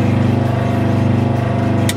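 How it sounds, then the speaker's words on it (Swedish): A machine contour saw (a vertical band saw) runs at a steady pace, giving a loud, continuous mechanical hum with an even droning tone throughout and no pauses. "För att sätta igång sågen så har man en röd knapp här."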